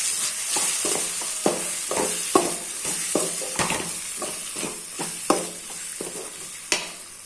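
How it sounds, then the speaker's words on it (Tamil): Chilli powder, cumin powder, fennel powder and turmeric sautéing in hot oil in a pan for onion rice, a steady close sizzle broken by repeated rhythmic scrapes and clinks of a spoon stirring, with no talk. "இப்போ இதை நல்லா வதக்கி விடலாம்."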